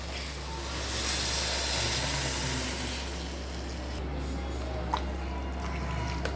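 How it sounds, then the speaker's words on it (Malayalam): Tamarind water poured into a simmering dried prawn curry with ash gourd, giving a steady, close liquid hiss and sizzle that fades slightly toward the end, with a few faint drips and no talking. "പുളിവെള്ളം ഒഴിച്ചു കൊടുക്കുന്നത്"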